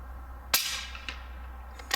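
Suppressed gunshot fired with cast lead bullets at an outdoor suppressor competition: one sharp, muffled report followed by a brief tail, then a couple of faint softer knocks, with no talk.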